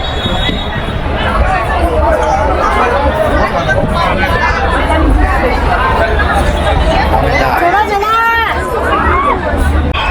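Dense crowd chatter on East Nanjing Road in Shanghai, a steady, loud hubbub of many voices and footsteps from a busy pedestrian street, continuous throughout.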